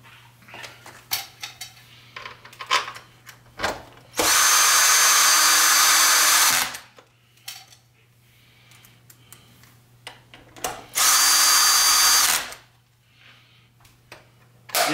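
Power drill driving screws into a SEBO Felix upright vacuum cleaner during repair, two loud sustained whirring bursts of about two and a half and one and a half seconds, separated by clicks and handling clatter of parts.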